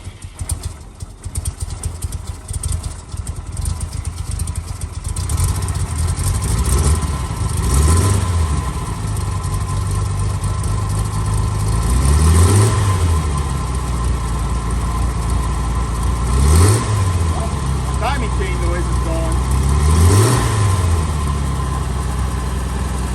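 The engine of a 1966 Jaguar E-Type roadster, on choke and in neutral, starts and settles into a loud, close idle. Several sharp revs rise and fall at regular intervals over a steady rumbling background.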